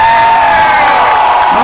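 A loud outdoor festival crowd on a beach cheers and whoops for a Bulgarian band, a dense, continuous roar of shouting voices close and overwhelming.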